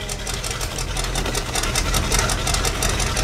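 Steady, close engine idle from a Ford bullnose truck warming up, a rough low rumble with a faint ticking rattle throughout.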